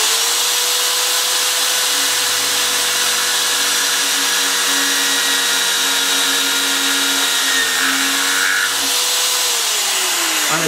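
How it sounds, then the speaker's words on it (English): A power drill whirs steadily at close range boring a hole in wood, its motor pitch holding constant before dipping briefly near the end, with no talking. "And it does drill a really, really neat hole"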